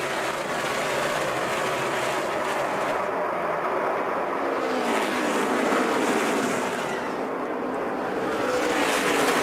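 NASCAR Sprint Cup stock cars racing for the lead, a loud continuous roar of engines with passing cars rising and falling in pitch, no talk over it.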